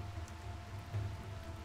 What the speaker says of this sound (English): We also have rain.